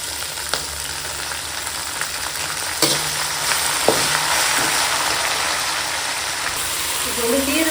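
Chopped manathakkali greens go into a pan of well-sautéed onions, producing a steady, even frying hiss with a sudden clatter partway through and a faint engine-like hum underneath.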